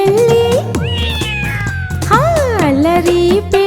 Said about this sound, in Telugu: మ్యావ్ మ్యావ్ అంటూ నన్ను చేరిందే చిట్టి పొట్టి పిల్లి